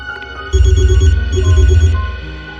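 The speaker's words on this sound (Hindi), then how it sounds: "अभिजीत का फोन है।" A telephone rings loudly in a quiet room, with a steady electronic trill that swells in and holds for about two seconds.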